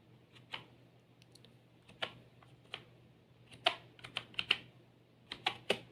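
Typing on a computer keyboard during a word-processing lesson, with scattered soft keystrokes giving way to quicker clustered clicks, close and clear over a low steady hum.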